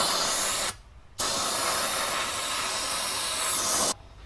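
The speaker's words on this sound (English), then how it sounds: "I'm gonna go get some brake clean." Aerosol brake cleaner sprays in two long, loud, steady hissing bursts, close by in a workshop, with a short pause between them and a clean cutoff at the end.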